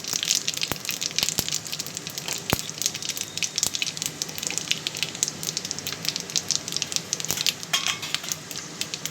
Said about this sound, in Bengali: শুকনো লঙ্কা তেজপাতা ফোড়ন